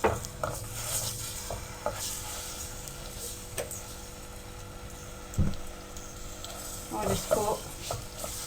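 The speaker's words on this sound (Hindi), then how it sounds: "तकरीबन 3 खाने के चम्मच कुकिंग ऑयल ले लें और इसको गरम करें और इसमें लहसुन पेस्ट को डाल दें" Garlic paste fries in about three tablespoons of hot cooking oil for a garlic curry, with a steady soft sizzle and close scraping stirs that swell near the end, under brief speech.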